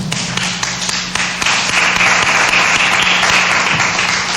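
Standing church congregation applauding the Lord after a sermon, a loud, continuous wash of many hands clapping with some sharper individual claps, with a low hum underneath.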